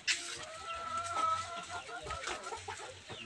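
Rhode Island Red chickens cluck and call in a poultry house, a steady, fairly busy flock chatter with overlapping bird calls at moderate loudness and no talking.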